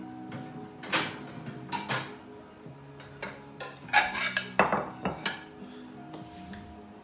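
Plates and dishes clink and clatter close by, with scattered sharp knocks and scrapes of crockery being moved around, no talking.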